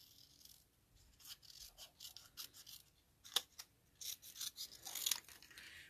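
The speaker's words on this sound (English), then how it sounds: "now I'm going to cut my little black mat" Scissors cutting a small black card mat for a handmade card, a close series of crisp snipping and rasping strokes in uneven bursts with brief pauses between them.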